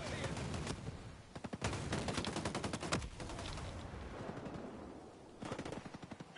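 An enemy gunner's machine gun in Ghost Recon Breakpoint rattles in long, rapid bursts of automatic fire, pausing briefly before another sharp volley near the end.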